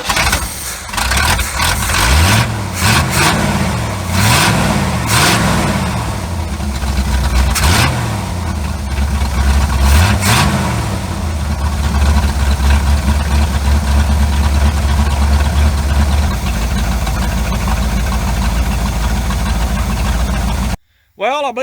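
A 1972 Chevrolet C30 truck engine with a newly swapped carburetor cranks and catches after several tries, revving in bursts before settling into a loud, steady idle nearby.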